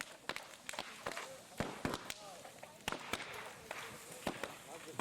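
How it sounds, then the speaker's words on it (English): Bamboo burning in a large controlled central fire pops loudly like firecrackers, sharp irregular cracks in quick bursts, with a person talking faintly in between. "they're like literally a big controlled central fire where they're tossing the bamboo onto"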